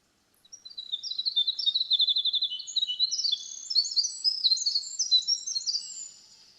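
A winter wren sings a long, loud, rapid song of high tinkling trills and warbles, running unbroken for about six seconds with no voices over it.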